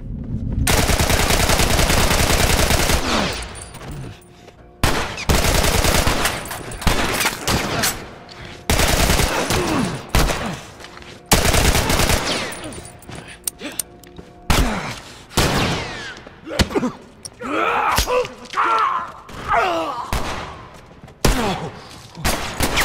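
Rapid bursts of automatic gunfire crackle loudly in repeated volleys, with short pauses and scattered single shots between them, in The Last of Us Remastered on PS4.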